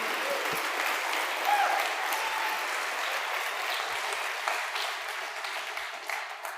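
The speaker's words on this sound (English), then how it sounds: "Can we give a bigger round of applause for the best and chillest organizers ever?" A conference audience at a React developer event applauds the organizers, producing sustained, dense clapping from a sizable crowd with a few louder individual claps and brief murmurs, tapering slightly toward the end.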